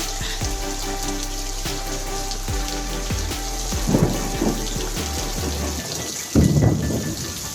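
Steady rain pours down in a rainstorm with lightning while thunder rumbles low, with two louder booming cracks standing out near the end.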